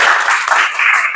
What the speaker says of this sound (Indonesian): Boleh tepuk tangan buat Salsabila.